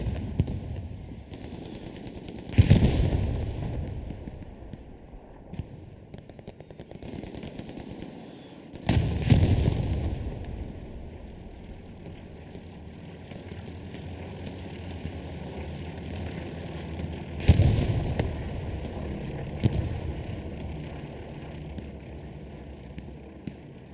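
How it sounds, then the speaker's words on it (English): Heavy artillery and gunfire in the WWII shooter Hell Let Loose: sustained rattling small-arms fire with three or four loud, booming shell blasts spaced several seconds apart, some near and some more distant. "It's like artillery targeting that armor there."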